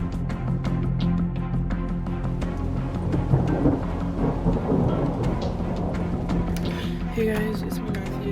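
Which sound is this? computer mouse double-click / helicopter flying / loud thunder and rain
loud thunder and rain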